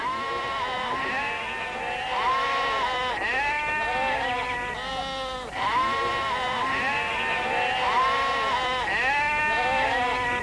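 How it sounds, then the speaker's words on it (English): A flock of sheep bleats continuously, many overlapping calls near and far, loud and steady with no talking. "there are too many sheep."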